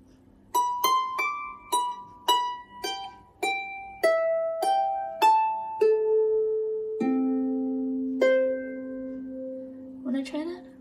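A Manx harp plucks a melodic phrase of single notes descending in steps, then sustained lower notes and a closing octave, each string ringing on clearly and close by.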